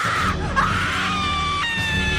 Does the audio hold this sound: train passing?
no